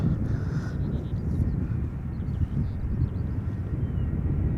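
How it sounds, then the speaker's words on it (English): A Finnair airliner arriving at Schiphol from Helsinki gives a steady low rumbling roar, with wind noise on the microphone throughout. "This is Finnair, flight 1301, arriving from Helsinki, Finland."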